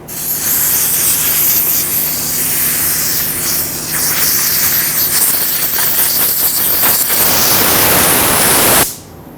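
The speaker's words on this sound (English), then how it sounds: "With some safety glasses and compressed air, go ahead and clean this off" A loud, sustained hissing blast of compressed air clears dirt and debris off the top of a Nissan Frontier 4.0L V6 fuel tank, running steadily for about nine seconds before cutting off abruptly.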